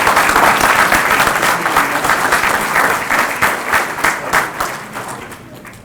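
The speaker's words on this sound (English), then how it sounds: "Let's give them another round of applause for all their efforts." Audience at a sheriff's award ceremony breaks into sustained applause, dense and loud at first, then thinning into scattered claps as it fades out.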